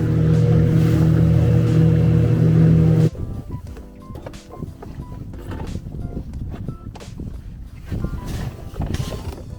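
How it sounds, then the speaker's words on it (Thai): Small boat out on the open sea near Denmark during a fishing trip, with large waves: a loud steady engine-and-water roar gives way to choppy sloshing and splashing of waves against the hull. "วันนี้คลื่นใหญ่นะคะ"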